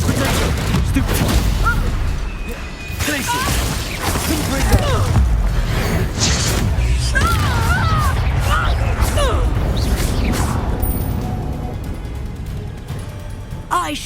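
Repeated Confringo fire-spell blasts during a Hogwarts Legacy fight, loud booming bursts and crashing impacts in rapid succession over continuous combat noise, with voices shouting amid the fray.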